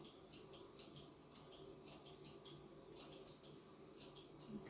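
Quick, crisp snips of sharp scissors trimming a dog's hair close by, repeated in an uneven rhythm, with no talking.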